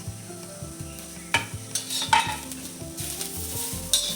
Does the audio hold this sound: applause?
no